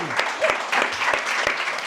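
A small audience applauds on a podcast recording, a short burst of close, crisp hand claps that stays fairly even for about two seconds.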